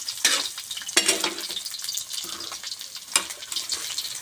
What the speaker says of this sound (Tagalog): Gisa na po tayo.